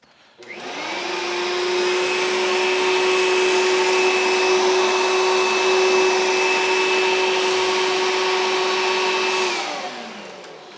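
A Dirt Devil Roommate vacuum cleaner starts up on a floor and runs with a loud, steady whine for about nine seconds, then winds down. No one talks.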